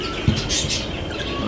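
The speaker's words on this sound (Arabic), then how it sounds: "عصفور فيشر" A Fischer's lovebird gives busy, high-pitched chirps over a noisy background of room sound, heard briefly with a low thump near the start.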